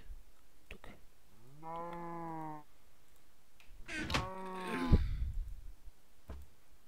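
Cow mooing in Minecraft, two drawn-out low moos a couple of seconds apart, close and clear, with faint clicks and a soft thud between them.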